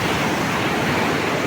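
River water from the Arun gushes out through hume pipes in a dense, steady roar, loud and close, with no voices.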